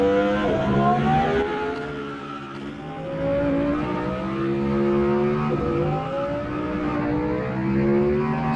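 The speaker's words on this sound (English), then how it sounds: "It's too loud, guys, too loud. This Lambo's too loud." A loud, high-pitched Lamborghini engine in the Roblox game Vehicle Simulator revs and whines, climbing through the gears in repeated sweeps with no talking.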